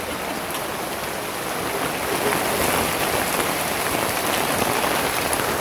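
Heavy rain falls steadily outdoors, a loud, dense patter on surfaces that swells slightly and holds throughout with no voices.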